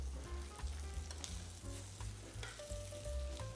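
Food fries in a pan, cooked a couple of minutes per side, with a soft, continuous sizzle and occasional scraping and stirring knocks, heard fairly quietly and without voices.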